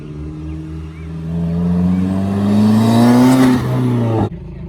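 A Subaru WRX turbocharged engine, fitted with a modified inlet hose, revs steadily higher in a sustained, loud climb, then cuts off abruptly near the end.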